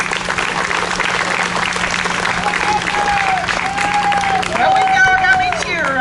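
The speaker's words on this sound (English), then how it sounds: "Let's give them all another big round of applause." An audience at a championship ceremony applauds the coaches, a sustained crowd clapping with murmured chatter mixed in, while a few voices rise and whoop toward the end.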